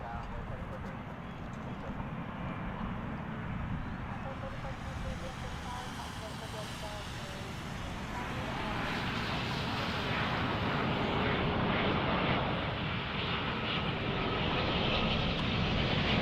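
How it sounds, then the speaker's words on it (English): A Boeing Dreamliner airliner arriving at DFW International Airport, heard as a broad, steady jet roar that swells louder about halfway through and stays strong to the end, with voices talking over it. "Just in time for the Dreamliner to arrive here from Seoul"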